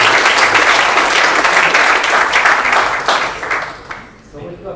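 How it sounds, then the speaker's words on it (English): An audience breaks into loud, dense applause at an event, sustained claps that gradually thin and fade toward the end, with voices mixed in. "Another applause,"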